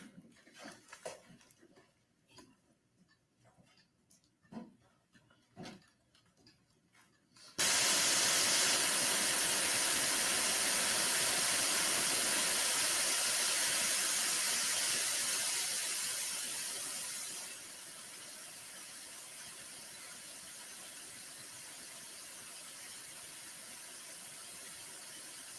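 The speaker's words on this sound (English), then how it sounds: "they have some annoying ass white noise for sidebars" Courtroom white noise masks a sidebar during a New Hampshire murder trial, bursting on abruptly after quiet murmuring and staying as a loud, steady hiss before dropping to a lower, constant level for the remainder.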